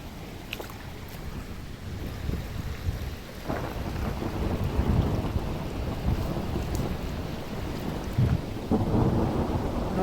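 Heavy spring rain pours steadily with rolling thunder and gusts of wind buffeting the microphone, a dense, continuous roar with louder surges rising and falling throughout, no voices.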